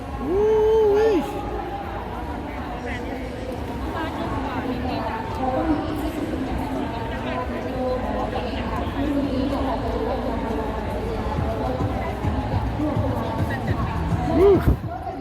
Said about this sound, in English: Big crowd, a lot of people here checking these cars out.